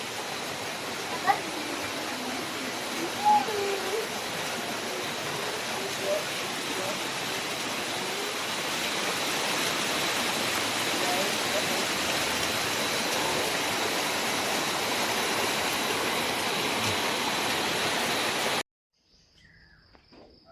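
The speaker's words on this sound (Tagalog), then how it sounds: "Grabe nga baha. Dire na giniagis balay." Floodwater rushes steadily past a house, a dense, even roar of flowing water that holds at a constant level and then cuts off abruptly near the end.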